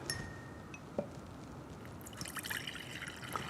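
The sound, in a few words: water poured into a jar for rinsing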